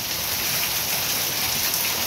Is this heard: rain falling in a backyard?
yes